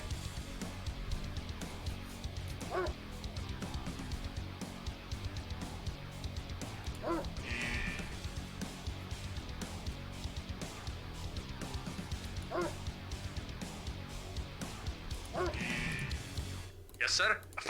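A dog barks a few times in the Red Alert Remastered strategy game, short sharp yaps spaced apart over a steady bed of game music and effects, with voiced unit acknowledgements heard throughout.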